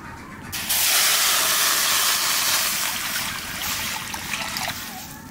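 Taro stems being steamed over hot water give off a loud, steady steam hiss that starts abruptly after half a second and holds for several seconds, with faint trickling underneath.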